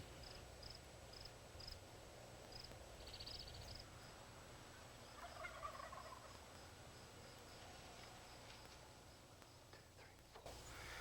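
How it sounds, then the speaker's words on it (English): Wild turkeys gobble in a short rattling burst at middle distance, faint against a steady bed of outdoor ambience with insects and scattered bird chirps. "there is a bunch of turkeys in there"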